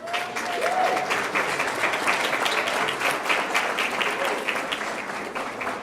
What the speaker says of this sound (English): Can we have one more round of applause for Minji Will?